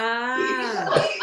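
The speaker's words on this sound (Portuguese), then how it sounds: "eu achei que você estava com tosse mesmo" A staged, theatrical cough from a performer during a stage act: a single drawn-out, voiced rasp lasting about a second, close and fairly loud.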